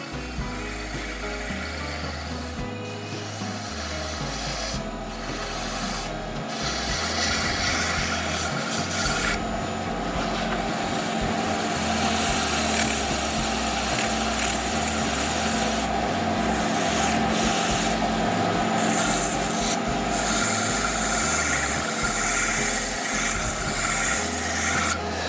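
Sandpaper rubbing against a wooden bottle opener handle spinning on a wood lathe, a steady abrasive hiss over the low hum of the running machine, continuous and close throughout.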